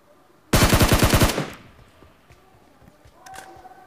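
A burst of rapid automatic M4 rifle fire in a video game rattles loudly for about a second, followed by faint game noise and distant shots.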